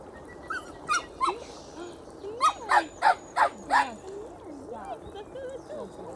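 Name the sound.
puppy whimpering and barking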